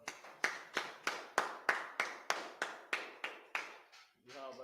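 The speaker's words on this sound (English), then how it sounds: "Clap it up." A group claps in unison at a religious class in Fayetteville, about a dozen sharp, evenly spaced claps in a steady rhythm, followed by a brief voice at the end.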